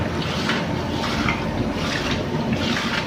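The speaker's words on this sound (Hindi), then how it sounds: "ऐसे पानी ऊपर मार लें, इसको अच्छी तरह धो लें।" Rice for degi biryani being washed as water pours over it, a continuous close splashing and gushing rush that stays loud throughout.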